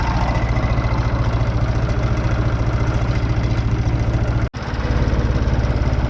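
A 484 engine idling during idle adjustment, a loud steady low chugging rhythm close by, with a brief dip midway before the idle resumes evenly.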